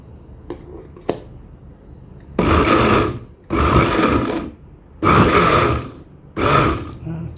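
A blender coarsely grinds shrimp meat and shells for a seasoning paste, running in four short, loud pulses of about a second each, separated by brief pauses with a few faint clicks in between.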